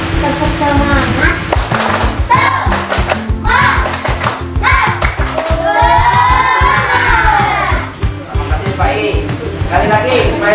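Fifth-grade students in a classroom perform a rhythmic spirit clap, patterned claps and thumps beating in sequence under loud children's voices chanting along.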